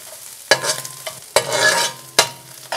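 Shrimp and mushroom stir-fry in hot fat, sharp bursts of sizzle each time the pan is tossed or stirred, three loud surges with crackling spatter between them, close up and without talk.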